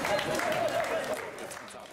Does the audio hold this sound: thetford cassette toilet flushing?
no